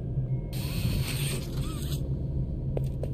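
A door slides open in the horror video game Poppy Playtime with a close mechanical creak and ratcheting grind, followed by a few faint clicks as it settles, with no talking.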